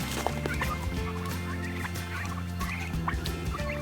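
Turkeys gobble and cluck together in a steady, busy chorus, several birds calling at once close by with no talking.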